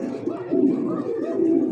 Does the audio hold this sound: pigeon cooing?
yes